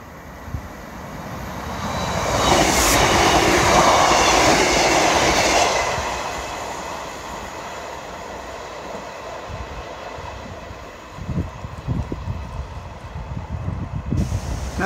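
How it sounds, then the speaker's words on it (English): A train rumbles past nearby on the seawall at Dawlish, its roar swelling to a loud peak and then fading into a steady rolling clatter. "Now this train is indeed a happy train."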